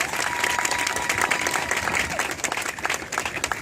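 Students applaud with dense, continuous clapping that fills the room at a lively, even level for the whole stretch.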